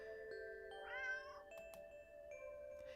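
A stray cat in a dirty old alley gives a single drawn-out meow, fairly close and clear, over a steady background hum with a few faint ticks and chimes.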